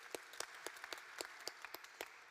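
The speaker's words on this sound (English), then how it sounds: "Round of applause." A small audience at the Somali Week Festival 2022 launch event claps sparsely, with distinct individual hand claps at an uneven rhythm, faint and somewhat distant, for about two seconds.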